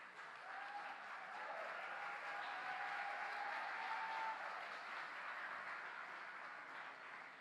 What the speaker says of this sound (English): let's hear a round of applause for the nominees that are joining us today